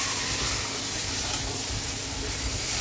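Ground spices with a splash of water added while being fried in a pan, giving a dense, even steamy hiss and sizzle that stays loud and unbroken from start to finish.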